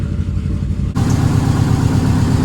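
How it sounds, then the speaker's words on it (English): Subaru Forester fitted with a swapped forged STI engine settles into a steady idle, a continuous low rumble that grows fuller and louder partway through and holds even with no talk. "It's idling so nice now."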